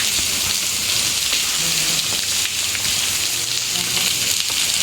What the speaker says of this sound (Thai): ฝนตกหนักเลยนะคะ